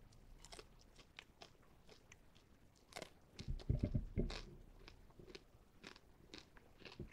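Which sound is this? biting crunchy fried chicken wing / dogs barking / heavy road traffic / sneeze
biting crunchy fried chicken wing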